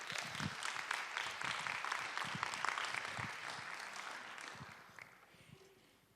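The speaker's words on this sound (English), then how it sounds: "So a big round of applause," A conference audience breaks into sustained applause for a speaker being introduced, dense and steady at first, then thinning and fading toward the end.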